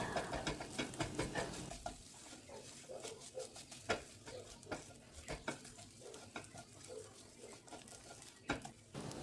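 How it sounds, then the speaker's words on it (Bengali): Egg pieces frying in a pan on a low flame, loud stirring and scraping at first, then softer crackling sizzle punctuated by sharp utensil clicks. "ডিমটাকে এইভাবে ছোট ছোট টুকরো করে ভেজে নেব"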